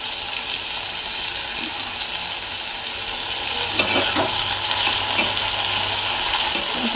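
Onion and tomato fry in hot oil in a pan for a spicy sprouted moth bean curry, a steady loud sizzle with occasional stirring scrapes throughout, no voices.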